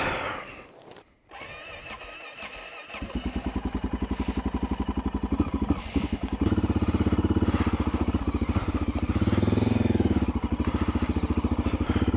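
A dual sport motorcycle is ridden off-trail through woods, its engine starting up and then settling into a close, steady, throbbing run that grows louder as it revs, with clatter and thumps over the rough ground.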